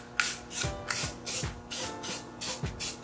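Aussie hairspray is spritzed inside the turbo intake pipe of a Honda Civic Type-R in a quick series of soft, close hissing bursts, about six or seven in a row, with no talking.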